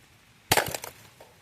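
Glass from a digital alarm clock shattering during deliberate destruction: one loud, close crash with a quick scatter of tinkling fragments, then near silence.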